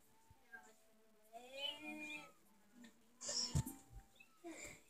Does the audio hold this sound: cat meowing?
yes